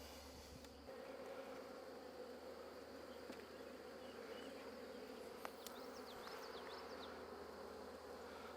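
Steady, dense buzzing of many honey bees close up at an open hive, a continuous hum with no voices.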